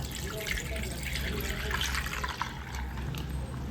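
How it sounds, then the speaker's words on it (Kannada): Thick milk pours steadily through a strainer into a bowl in a home kitchen, a continuous close splashing, trickling stream that runs the whole time without a break. "ಒಂದು ಬೌಲ್ ಇಟ್ಕೊಂಡಿದ್ದೀನಿ. ಸೋಸ್ಕೊಳ್ತೀನಿ ನಾನು ಹಾಲನ್ನು."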